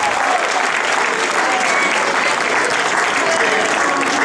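Loud, dense audience applause at a youth football tournament prize ceremony, steady and sustained throughout without a break.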